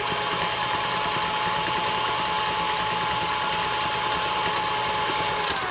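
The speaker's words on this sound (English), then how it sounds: "beat that all together. Make sure you put it on a high level because you want to make sure you get it all mixed very well." An electric mixer set to high beats butter and shortening together for cupcake frosting, a steady continuous whirring motor hum with a faint mechanical rattle throughout, close and alone.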